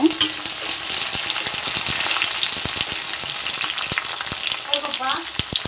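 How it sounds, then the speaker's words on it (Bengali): Onion and garlic fry in hot oil in a wok for mutton kasha, a steady close sizzle broken by sharp spatula scrapes and stirring clicks, with brief faint voice at the end. "এখন পেঁয়াজ আর রসুনগুলো দিয়ে দিচ্ছি।"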